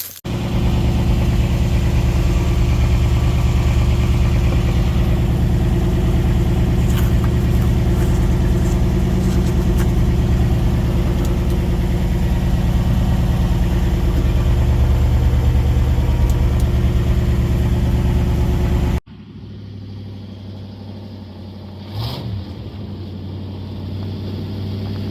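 1959 Ford F-100 4x4 pickup engine running at a steady, loud, close rumble for most of the stretch, then dropping abruptly to a quieter idle with a brief bump near the end.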